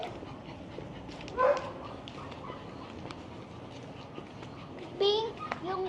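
A dog out on a walk gives a couple of short, sharp barks and yips, fairly near, over outdoor ambience with children's voices chattering in the background.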